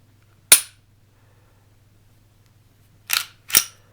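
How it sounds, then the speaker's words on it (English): Glock 48 pistol dry-firing, with one sharp, loud trigger click and then two quick reset clicks close together about 2.5 seconds later, all crisp and close over a faint low hum. "But this reset is awesome. Nice loud tactical pop right there. You can hear it."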